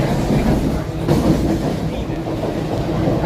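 A suburban train rumbles steadily as heard from inside a carriage, a loud continuous roar with a subtle clattering pulse from the wheels and no pauses.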